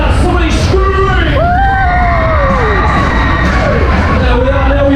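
Dense crowd at the Hoppings fair in Newcastle screaming and cheering around the Ice Jet ride, a loud continuous roar of yells and whoops with shouted voices rising and falling throughout.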